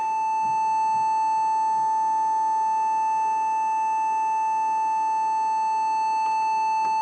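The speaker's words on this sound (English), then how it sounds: "That's a real sine wave." A steady sine wave test tone from a DIY 7W audio amplifier hums continuously, unchanging in pitch and loudness, with faint overtones and no voices.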